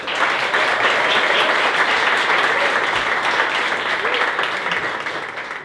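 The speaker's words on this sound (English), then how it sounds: "let's celebrate that and give them another round of applause" Sustained audience applause at a tech tools launch event for Ad Insights and Alpha Measure, a steady broad wash of clapping that holds loud throughout and tapers slightly at the end.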